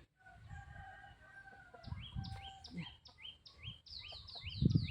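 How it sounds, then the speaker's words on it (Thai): A rooster crows faintly in the distance while small birds chirp repeatedly nearby, with soft low rumbling in the background. "มีกุ๊กกุ๊กไก่ด้วย"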